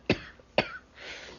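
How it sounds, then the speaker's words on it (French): A person with a cold coughs twice in quick succession, close and sharp, then exhales with a faint breathy rasp afterward. "Je tousse encore un peu, mais c'est pas la COVID"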